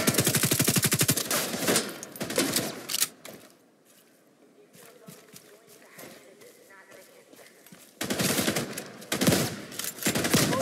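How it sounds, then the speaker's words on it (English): Bursts of automatic gunfire aimed at hostiles in The Division 2 on PC, loud rapid rattling volleys at the start and end with a quieter stretch of distant shots and ambience between. "Firing on hostile."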